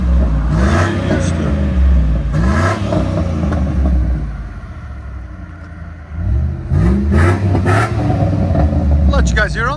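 A 2004 Chevy Avalanche Z71 with a 5.3L V8 and a Flowmaster Super 10 muffler revs its exhaust in loud, deep bursts, then settles to a lower rumble before revving again, with a person speaking over it.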